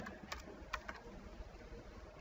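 A few faint, sparse clicks of typing on a computer keyboard during desktop work in InDesign, with quiet room noise between the keystrokes.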